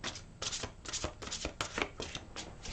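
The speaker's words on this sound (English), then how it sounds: "And one more shuffle." A deck of tarot cards is riffled and shuffled in a quick run of crisp, close flutters and taps, repeating steadily with no talking.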